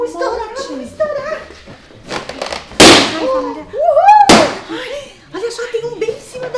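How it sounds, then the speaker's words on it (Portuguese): Two sharp, loud balloon pops burst out a second or so apart amid lively, excited chatter from people in a playroom full of balloons. "E eu adoro estourar balões!"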